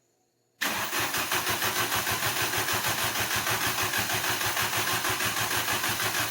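A VW ABA 16v turbo engine cranking on MAP gas, the starter kicking in abruptly after a brief quiet moment, then a fast, even, rhythmic churning that continues steadily without catching, close and loud.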